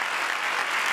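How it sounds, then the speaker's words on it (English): A crowd breaks into a short, dense round of clapping and cheering for a guest at a live discussion show, loud and continuous throughout. "Let's have a round of applause for Brandon."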